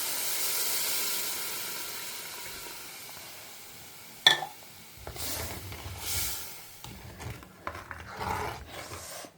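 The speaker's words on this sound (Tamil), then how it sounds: "இப்போ வந்து புளிஜலம் ஆட் பண்ணிடுறேன்." Tamarind water is poured into a hot pan for vatha kuzhambu. A faint hiss gives way partway through to a sudden burst of sizzling steam, followed by uneven bubbling and occasional stirring noises.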